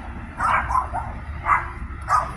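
Several short dog barks and yips, moderately near, in irregular bursts over a low background rumble from nearby construction.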